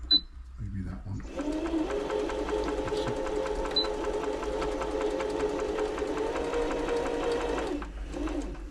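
A Brother Super Ace III sewing machine being serviced, running close by for about seven seconds as it forms stitches, with a fast, even, rhythmic mechanical whir and tick that starts and stops cleanly.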